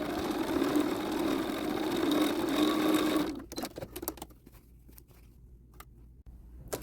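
A sewing machine runs steadily, stitching close to the hem edge of a pair of pants to form an elastic casing. The whir is continuous and loud for about three seconds, then stops, leaving faint clicks and handling noises.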